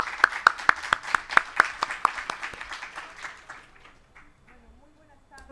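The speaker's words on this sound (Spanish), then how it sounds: "Los recibimos con fuertes aplausos" Audience applause at the Instituto de Estudios Peruanos presentation of Raúl H. Asensio's book "Señores del pasado": a lively burst of many clapping hands for about two seconds, then thinning to scattered claps and fading into room murmur.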